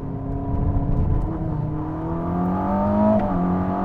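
Ferrari SF90 Assetto Fiorano accelerating on a warm-up lap, heard from inside as a smooth, rising engine whine with climbing tones and a steady low rumble, and no talk.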